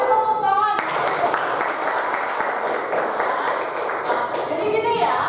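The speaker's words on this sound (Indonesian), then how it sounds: "Ya, kasih tepuk tangan." A classroom of students bursts into a burst of clapping during a biology lesson on biotechnology. The applause is dense and close, lasts about four seconds, and then fades as a voice returns.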